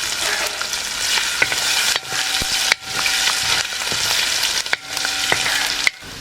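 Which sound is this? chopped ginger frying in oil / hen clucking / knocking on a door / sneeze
chopped ginger frying in oil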